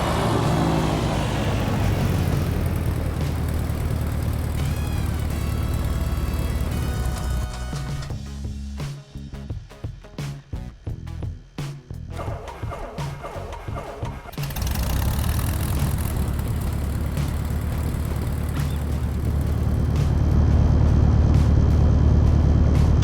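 Single-engine Piper Arrow III in the X-Plane 11 flight simulator, heard from outside the aircraft: a steady, loud engine drone with propeller wash that dips into a rough, sputtering lull midway, then swells back to a full, even roar.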